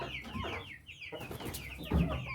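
Chickens clucking near a coop under construction, a busy run of close, overlapping clucks and squawks with a louder outburst near the end, no people talking.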